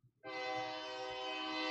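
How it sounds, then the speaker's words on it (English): A train coming through town sounds a loud, sustained horn that starts abruptly after a brief low rumble and holds steady and close to the end, with no voices. "And we have a train coming through town."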